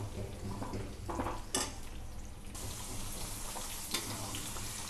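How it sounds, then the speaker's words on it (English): Ingredients for tomato chutney fry steadily in a pan, a continuous close sizzle broken by a few scraping stirs of a spoon against the metal. "Once in a while we have to mix all of them like this."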